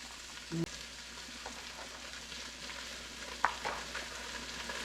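Chopped celery, potatoes, carrots, green peppers, onions and mushrooms cook down in a frying pan, giving a steady soft sizzle throughout, broken by a brief clatter near the start and a short scrape later.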